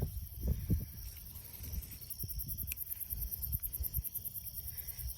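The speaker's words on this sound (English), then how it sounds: "Starting to hear the crickets out here at night." Crickets chirping at night in a backyard vegetable garden, a faint steady high trill beneath low rustling and handling noise close by.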